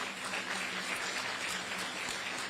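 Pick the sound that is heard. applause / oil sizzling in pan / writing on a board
applause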